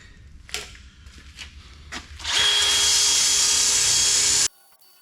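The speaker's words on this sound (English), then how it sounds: "We'll drill a hole this side, and then we'll flip it over and drill a hole on the other side" A power drill bores a hole into a metal feeder bracket: a few faint knocks first, then the drill spins up loud and steady for about two seconds before stopping abruptly.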